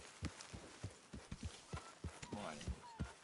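A horse's hooves in Red Dead Redemption 2 beat out a steady, moderately paced clip-clop, fairly close, with a voice speaking briefly over the hoofbeats near the middle.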